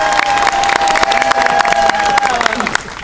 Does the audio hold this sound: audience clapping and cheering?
yes